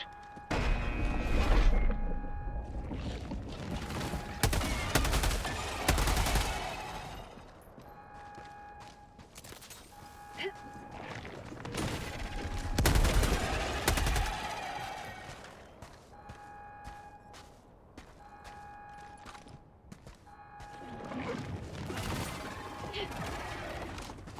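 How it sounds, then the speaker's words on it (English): Gunfire in Helldivers 2 comes in repeated bursts of rapid shots, each cluster separated by quieter stretches of in-game mechanical and ambient sound with faint tonal effects. "For A-list accuracy, stay still while you shoot."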